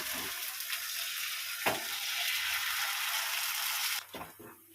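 Semolina patties sizzling in hot oil, a steady bright crackle with a brief stirring scrape partway through before the frying noise drops off sharply near the end.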